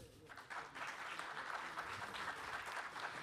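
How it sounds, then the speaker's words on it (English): An audience at a forum applauds a secretary of state, a fairly faint but steady wash of clapping that swells in after a brief pause and continues evenly to the end. "Je vous demande de l'applaudir."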